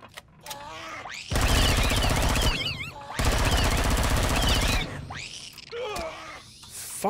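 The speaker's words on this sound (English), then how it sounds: "I'm gonna try and shoot some dickheads from up here" Gunfire in the sci-fi survival game Empyrion Galactic Survival comes in two long, loud bursts of rapid automatic shots, each lasting a second or more, with quieter game sounds in between.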